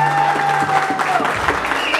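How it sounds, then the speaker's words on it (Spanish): Applause at a birthday serenade by a youth mariachi group, a short burst of clapping mixed with sustained tones from the musicians and some voices. "El aplauso fuerte que se escuche."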